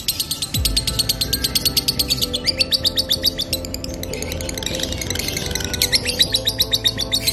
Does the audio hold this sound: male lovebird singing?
yes